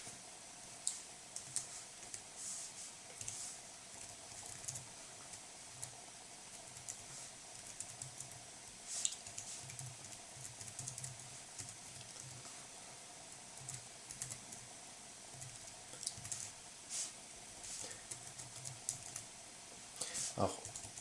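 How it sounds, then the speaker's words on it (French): Typing on a Rii K09 folding AZERTY keyboard, with quiet, steady key clicks in irregular bursts close by, faint against a low background hum, and no talking. "Je vais taper sur le clavier."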